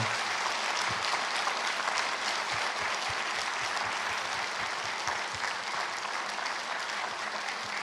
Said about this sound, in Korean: 우리 박수로 한번 감사의 표현했습니다